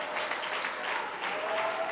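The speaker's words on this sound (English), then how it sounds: "Clap your hands and bless the Lord" A church congregation claps along during live Sunday worship, steady dense applause-like clapping filling the room throughout with a faint hint of voices underneath.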